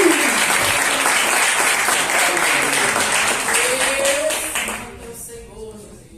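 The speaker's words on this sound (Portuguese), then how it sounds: "Palmas para Jesus." A church congregation claps and applauds for Jesus, a dense sustained burst of many hands that tapers off near the end as a voice begins to speak.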